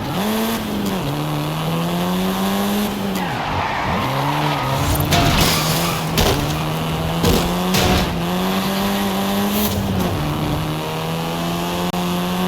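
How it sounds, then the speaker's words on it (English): A Volkswagen Golf R races in Forza Horizon 5, its engine revving up and dropping through repeated gear shifts, with tire squeal and skidding over about twelve seconds of continuous loud driving. "This version is the Volkswagen Golf R, R meaning race"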